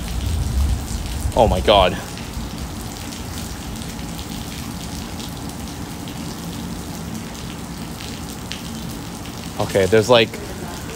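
A light rain patters in a steady, even hiss as water drains. Two short bursts of a voice break in, one near the start and one near the end.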